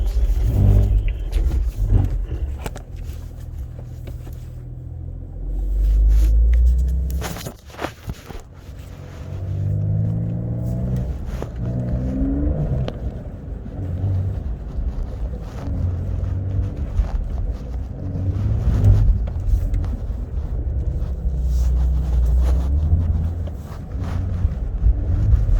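A Porsche drives with traction control active, its engine rumbling and revving in uneven surges under steady road and wind noise, with no talk.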